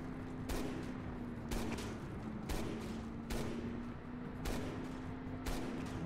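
Gunshots in the video game Resident Evil 6, spaced evenly about once per second, each a sharp mid-loud crack over a steady low hum, with no talk.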